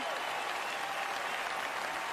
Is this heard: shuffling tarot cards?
no